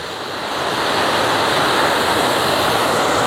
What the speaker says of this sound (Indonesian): air terjun yang ada di kawasan ini